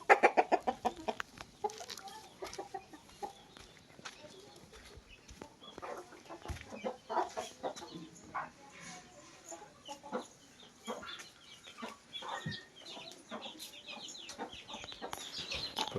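Hens of the Kanni Siruvidai country breed cluck and cackle in a farmyard just after laying their first eggs, with repeated close calls and bursts throughout, plus some faint background noise.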